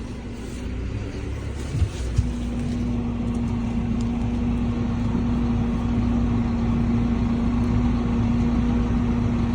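A Massey tractor engine drones steadily while pulling out a stuck MTZ tractor, a close, continuous rumble with a constant low hum and no voices, holding an even, loud level throughout with a couple of brief knocks early on.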